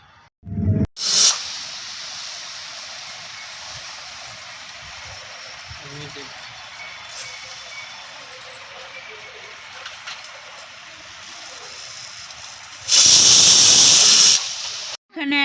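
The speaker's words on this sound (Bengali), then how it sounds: "এখানে মটর আর আলু একসাথে প্রেসারের মধ্যে দিয়ে দিয়েছি।" A pressure cooker holding peas and potatoes hisses softly and steadily on the stove, then lets out a loud, shrill whistle blast near the end.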